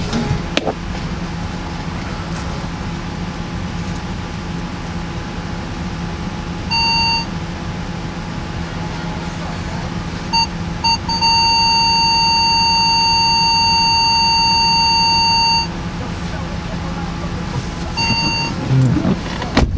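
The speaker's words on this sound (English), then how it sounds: "if you don't like that annoying beeping, you can just turn the parking sensor audible off" Car parking sensor warning beeps heard from outside the vehicle, high electronic tones repeating in short bursts and then a longer steady run, moderately loud over a constant idling engine hum.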